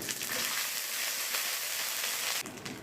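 Dried chillies and spices frying in hot oil in a pan, a steady close hiss and crackle that continues for about two and a half seconds before it briefly softens.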